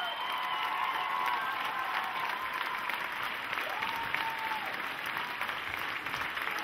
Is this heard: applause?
yes